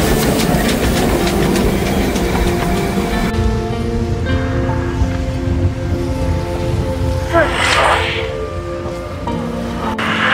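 The Darjeeling toy train, a small hill railway, rumbles and rattles steadily along its rails in a loud, continuous clatter, with a brief hiss near the end.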